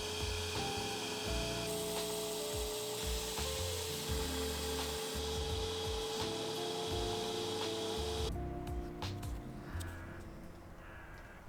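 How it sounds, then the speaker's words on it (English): A belt sander works a small wooden fingerboard outdoors, giving a steady, fairly loud grinding rasp with a constant motor whine. The sanding shifts in texture as the board moves and eases off near the end, with no talk. "But I'm gonna do it with a sand belter because it just makes more convenient."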